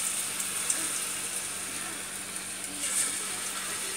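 Batter-dipped bread pieces deep fry in hot oil for a bread pagoda snack, a steady, hissing sizzle with bubbling crackle that holds throughout and swells slightly near the end.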